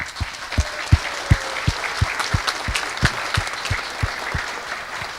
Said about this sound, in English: I want to give a hand of applause now